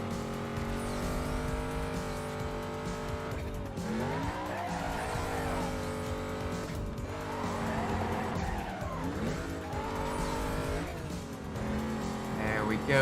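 A race car in Need for Speed Carbon roars steadily through a checkpoint race, its engine pitch rising and falling with repeated tire squeals and skids through corners, loud and continuous.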